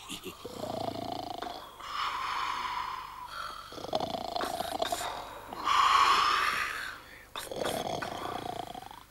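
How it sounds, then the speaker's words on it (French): A cartoon character snoring loudly in a French animated show, long rasping growling snores repeating in slow rhythmic cycles, exaggerated and close. "Non, c'est pas possible de ronfler comme ça."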